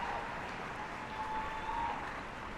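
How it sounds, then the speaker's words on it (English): A crowd at the Brisbane Anzac Day march applauds, heard as a faint, distant, continuous wash of clapping that holds steady throughout. "And while the crowd certainly in applause in honour of his service."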